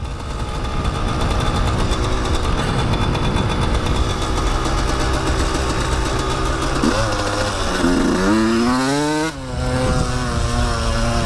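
A dirt bike engine revs hard and steadily at close range while the rear wheel spins and throws roost, its pitch rising and falling in surges near the end, with no talk over it.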